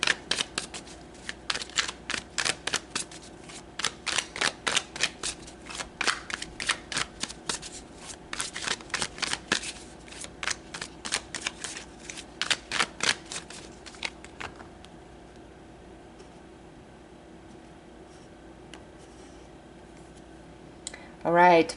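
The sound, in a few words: shuffling tarot cards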